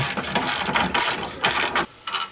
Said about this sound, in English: Somehow I'm going to get a wrench up there.